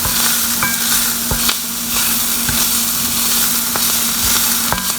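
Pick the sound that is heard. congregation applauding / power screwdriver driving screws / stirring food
stirring food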